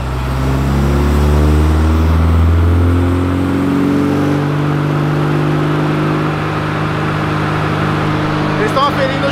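Carbureted Chevrolet Opala engine on Weber 40 carburetors revving hard during a dynamometer pull, a loud, close, sustained roar that climbs and holds, then eases slightly, with a brief crackle near the end.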